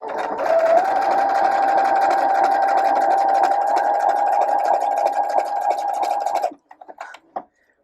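A sewing machine runs in one steady, continuous stitching burst while sewing a 1940s-style skirt seam up to a divide point, then cuts out near the end, leaving a few soft handling clicks.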